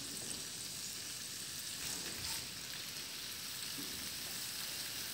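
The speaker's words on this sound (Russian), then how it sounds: "Чтобы вкусно пожарить ее, я не закрываю крышкой." Potatoes fry in an uncovered pan, giving a steady, dense sizzle and crackle that holds evenly from start to finish with no talking.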